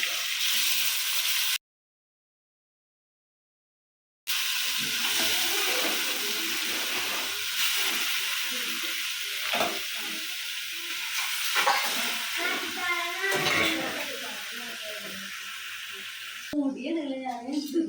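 Chicken sizzles as it is stirred in a hot pan for a chicken perattu, with a steady fry and scraping stir strokes. A silent gap comes early, and a voice talks over the cooking near the end.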